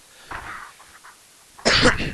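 A close, harsh cough bursts out loud near the end, after a few fainter breathy sounds.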